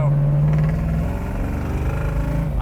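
A 1966 Chevrolet Chevelle SS engine pulls hard under acceleration, a deep, throaty rumble with a rising and shifting tone that stays loud and close throughout.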